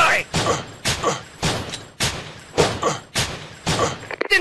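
Enemy artillery fire in an Android counter-terrorist war shooter game, a series of about eight heavy, evenly spaced booming blasts, loud and close, with a burst of rattling at the end.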